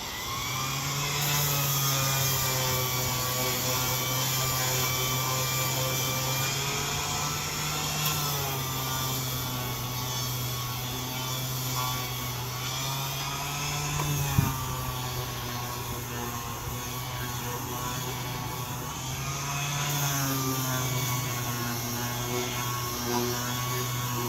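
Orbital sander fitted with 400-grit paper running at its lowest speed on a wooden table being refurbished, a steady low motor hum with a faint whirring drone, fairly quiet and continuous with no talking.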